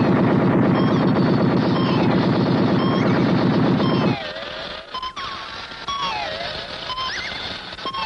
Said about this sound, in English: Okay, Iron Man, let's see you work those cannons.